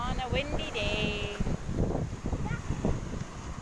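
Gusty wind on a beach buffeting the microphone, rumbling low and unsteady, with faint voices and a brief whistling tone early on.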